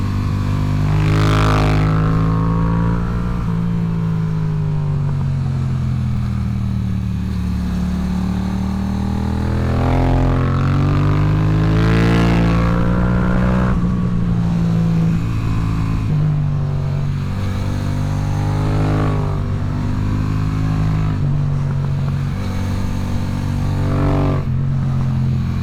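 Yamaha R3 sport motorcycle engine at speed through track turns, high-pitched revving rising and falling with repeated upshifts and downshifts, loud and close throughout with no talk.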